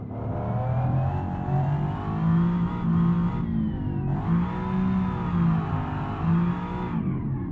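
Engine of a 1990s GT car in BeamNG revving hard toward redline, a loud rising and falling mechanical whine with gear-change dips, sustained and close with no talking.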